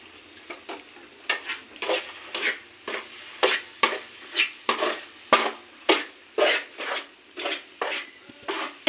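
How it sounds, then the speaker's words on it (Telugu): Flax seed powder being mixed into sugar syrup for laddu, a close, rhythmic series of roughly a dozen scraping spoon strokes against the pan, each a short rasping burst, with no speech. "మొత్తం వేసేసి బాగా మిక్స్ చేసుకున్నాం."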